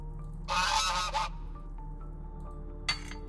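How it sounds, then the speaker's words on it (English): Honking from an unfriendly goose in the video game Detectives United, a loud, harsh burst of honks up close, then a single shorter honk after a pause, set against a faint steady hum. "This goose isn't very friendly."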